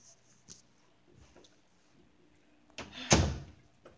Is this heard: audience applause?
no